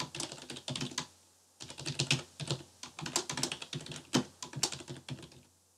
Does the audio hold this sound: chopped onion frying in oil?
no